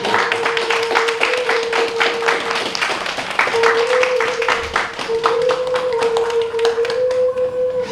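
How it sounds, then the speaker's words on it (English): Audience at a festival conference clapping in a steady, dense patter of many hands, fairly close and loud throughout, with a sustained tone running underneath. "Yes, another round of applause."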